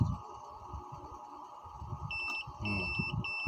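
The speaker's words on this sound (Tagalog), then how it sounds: "pag nag-beep yan, matik na yan, shorted na yan" A multimeter in continuity mode beeps as its test probes touch a shorted component on the board of a Samsung UA55J6200AR 55-inch smart TV with no power, giving several short high tones over low handling noise.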